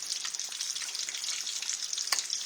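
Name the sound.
stirring a glaze in a pan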